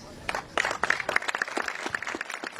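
Audience applause at the opening ceremony of a new multi-purpose sports field: a crowd claps in a dense, steady patter for a few seconds, moderately loud and close.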